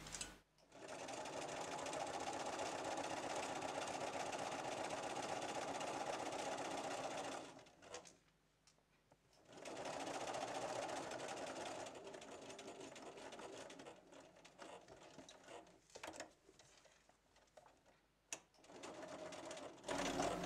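Electric sewing machine stitching a patchwork table runner made from a mini charm pack, whirring in long steady runs with brief pauses and restarts, close and clear, with no talk over it.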